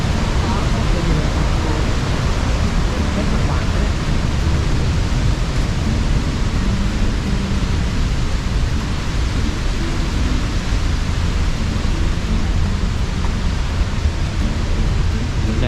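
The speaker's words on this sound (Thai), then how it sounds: "คนได้ยินเสียงน้ำตกไหมครับ" A forest waterfall in Khao Yai National Park roars as a dense, constant wash of falling water, loud and close, with no break for the whole stretch.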